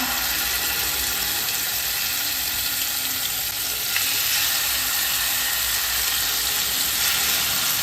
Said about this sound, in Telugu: హీట్ ఎక్కిన తర్వాత నేను ఒక్కొక్కటిగా ఈ ప్రాన్స్ దీంట్లో వేస్తున్నాను.